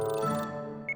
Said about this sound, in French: Oh, c'est mon alarme de rappel.